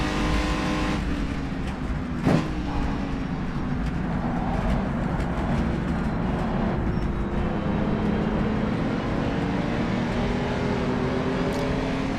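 Racing cars lapping at the 1955 Gold Star New South Wales TT, a steady engine drone with shifting revs and a passing car, continuous and fairly loud throughout.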